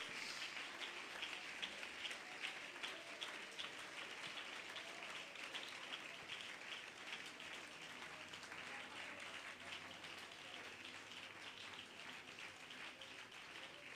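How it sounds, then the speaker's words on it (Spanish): A church congregation gives a sustained ceremonial round of applause to God, a faint, even, rain-like patter of many hands continuing steadily for about fourteen seconds. "Dele un aplauso ceremonial a su Dios"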